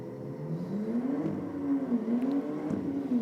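A BMW drag racing car makes its run down the strip, a steady droning engine whose pitch rises and dips with gear changes, heard continuously at moderate distance.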